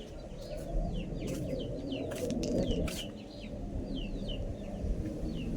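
Backyard chickens and their chicks cluck and peep nearby in a constant scatter of short calls over a dense rumbling background, with no speech.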